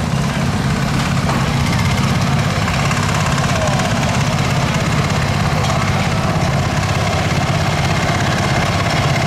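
A 1954 Farmall Cub tractor engine runs steadily at an Illinois steam power show, a continuous loud low rumble with no break, close to the listener, with no talk over it.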